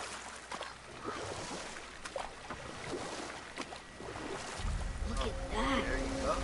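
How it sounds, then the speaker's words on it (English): Paddling a small boat on water in the video game God of War: soft splashes and lapping water over a faint wind bed, with someone talking throughout and background music rising toward the end. "This paddling should take a while."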